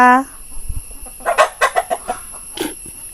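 A chicken clucks in a quick series of short, close calls, with a brief higher squawk at the start and another near the end.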